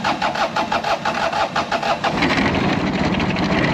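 A Yanmar engine on a lawn mower cranks briefly and pops to life, settling into a steady, close, loud idle with a mid-pitched rumble.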